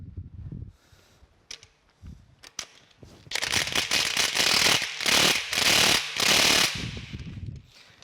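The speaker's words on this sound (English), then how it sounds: "I'm going to try cheating a little bit and use an impact socket here" An impact wrench with an impact socket hammers at stubborn nuts on a steam locomotive stoker engine under restoration: after scattered clanks come several loud, rapid rattling bursts, close and separated by short pauses.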